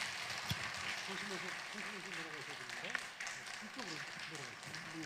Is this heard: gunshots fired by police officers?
no